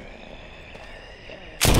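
A single loud gunshot from a handgun in The Walking Dead: Saints and Sinners VR zombie game, a sharp close bang near the end after a quiet ambient stretch.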